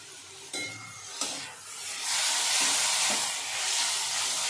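Vegetables for veg hakka noodles sizzle in a hot pan as vinegar and soy sauce go in, with a couple of sharp clatters before a loud, steady hiss takes over and carries on alone.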